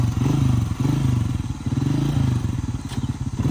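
Honda CG vintage motorcycle idling and pulsing with a steady low engine throb, loud and close, the beat dipping briefly as the rider brakes; no voices.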